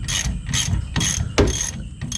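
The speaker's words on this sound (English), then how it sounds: "Alright, just putting the final nut on now." Ratchet wrench tightening the final nut on a modified Hilux G shackle, rapid clicking bursts repeated in short rhythmic strokes, close and distinct.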